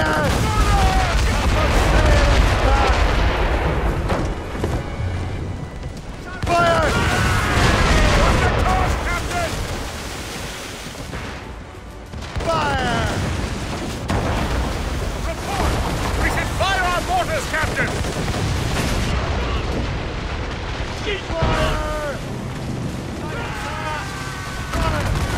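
A sailing warship fires its cannon broadside in Assassin's Creed Rogue, deep booms and rumbling blasts rolling over sea and battle noise, with crew shouting amid the heavy, continuous din.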